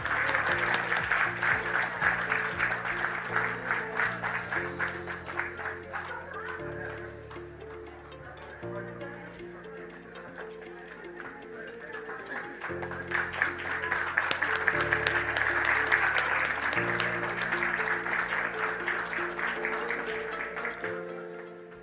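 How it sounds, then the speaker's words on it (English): At a regional UNESCO Memory of the World committee meeting for Asia and the Pacific, an audience applauds over sustained music, the clapping rising and falling beneath steady tonal chords for about twenty seconds. "let's have another round of applause to the successful inscriptions to the 2024 MOWCAP Regional Register"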